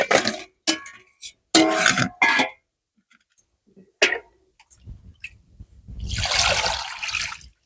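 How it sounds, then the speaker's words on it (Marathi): Water splashing as cut catla fish are rinsed in a vessel, a sustained burst near the end after a few brief sloshes, with scattered short sounds and quiet gaps before it. "आपण 3-4 पाण्याने धुवून घेऊया."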